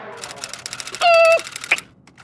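A person in a Hindi TV comedy classroom scene imitates a typewriter with their voice, making a short burst of clicky, beeping mouth noises followed by a sharp click.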